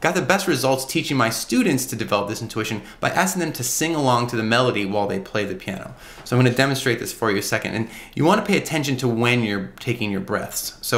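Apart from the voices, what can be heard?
None of the usual background noises is heard.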